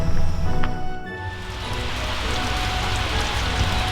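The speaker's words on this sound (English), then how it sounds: "We are enjoying our being here and waiting when the rain will stop." Steady rain falls outdoors by a log cabin on Michigan's eastern shore, a dense continuous hiss of drops on surfaces, fairly close and unbroken with no talking.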